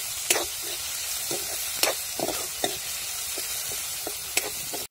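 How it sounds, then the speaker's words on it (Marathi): Greens stir-fried in oil in a pan over a wood-fired stove, with a continuous soft sizzle broken by occasional scraping strokes of a spatula, close up, and no one speaking. "चांगली परतून घ्यायची एकदम, कारण तेलातच ती आता शिजून जाणार आहे।"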